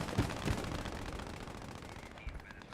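Gunfire in the World War II game Post Scriptum: a pair of close sharp shots at the start, then a rattling burst and echoing battle noise fading away.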